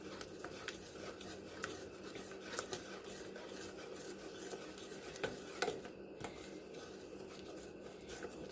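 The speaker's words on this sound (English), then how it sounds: "Sorry you have to sit and watch me stir" A spoon stirring and scraping a melting chocolate and peanut butter mixture in a pot for no-bake cookies: soft continuous rubbing with occasional light clicks against the pot, quiet and close.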